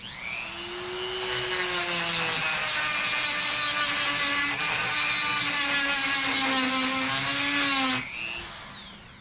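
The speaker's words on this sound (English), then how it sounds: "we will put the grinder bit on it and lightly work that" A rotary tool fitted with a grinder bit lightly grinding metal on a Belgian-made 12-gauge Eclipse Meteor double-barrel shotgun, a close high-pitched whine lasting about eight seconds before winding down.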